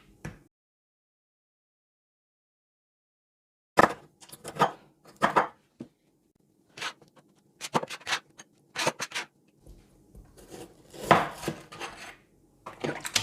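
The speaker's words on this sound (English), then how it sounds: "We're going to slice some fresh tomatoes." Fresh tomatoes are sliced on a board, a run of crisp knife cuts and clicks that starts after a long silence and grows busier and more irregular toward the end.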